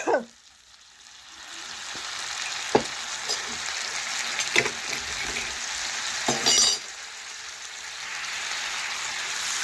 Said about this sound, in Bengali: নাড়াচাড়া করতে করতে একটু কষে নিচ্ছি।